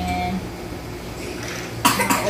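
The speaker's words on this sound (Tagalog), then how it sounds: "Ubo-ubo pa rin." A baby's cough bursts out near the end after a stretch of quiet hospital room noise, a short rough burst with a second smaller one following.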